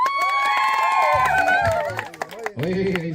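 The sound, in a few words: crowd cheering noisily at campfire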